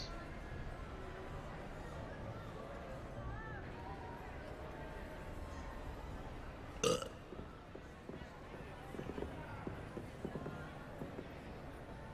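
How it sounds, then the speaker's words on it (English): A character in the video game Hogwarts Legacy lets out a single short, loud burp amid quiet game ambience and faint hoofbeats, followed by a few softer murmurs. "Why does this guy keep burping?"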